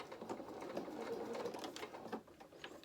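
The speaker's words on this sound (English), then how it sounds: "I'm going to carry on stitching, and then I'm going to just let the fabric just pull off the needle at the end point there, and now I'm going to reverse." Domestic sewing machine stitching in reverse through fabric on a doll-making project, a steady close motor whir with a rapid needle patter running throughout.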